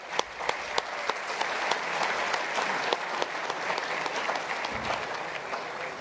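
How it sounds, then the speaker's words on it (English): Gala dinner audience at an ethnic business awards event giving a round of applause, many hands clapping evenly with a few sharp individual claps standing out, sustained for about six seconds. "why don't we give him a round of applause in his absence?"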